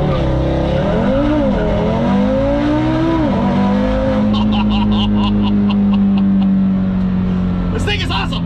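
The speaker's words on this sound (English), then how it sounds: "Why not launch it the way I normally launch the car?" A street-tired car with boost launches from a standstill, its loud engine note climbing and dropping through gears with a rising rev sweep, followed by a steady roar and sharp rapid crackles near the end, with people talking.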